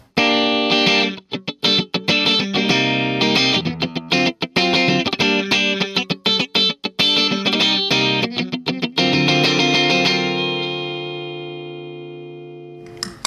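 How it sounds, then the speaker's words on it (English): Clean electric guitar from a Fender Telecaster on its middle pickup, played through a Vox AC-15 amp miked with an SM57: a steady run of picked notes and chords, close and full, with a final chord left ringing out alone. "I'm playing through my Fender Telecaster, middle pickup position. Here we go. Here's my clean signal."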